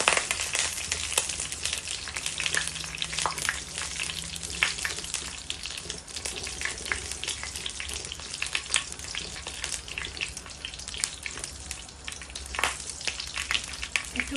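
Black peppercorns and whole spices fry in a hot pan for an Indian vegetable and egg curry, giving a steady, dense sizzle with occasional stirring scrapes and crackles throughout.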